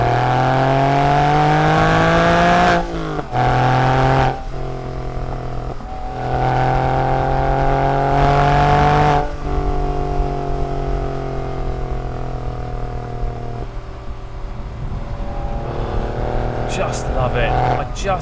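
Porsche 911 fitted with a Miltech exhaust back box, engine revving loudly and close in repeated rising pulls with brief gaps between, tone climbing and settling, then idling before a final burst.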